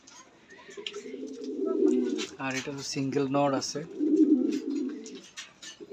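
Pigeons of Lahori and local breeds coo repeatedly at close range in a loft, their low throaty calls running before and after a man's speech.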